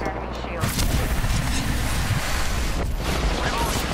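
Loud, dense gunfire in Apex Legends breaks out after a brief lull, continuing as a rolling barrage with a sharp burst near the end.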